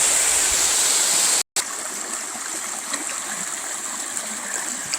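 Steady, loud rush of the waterfall at Turkey Run, heard close with a brief cut near the start, then continuing as a constant roar with light splashing.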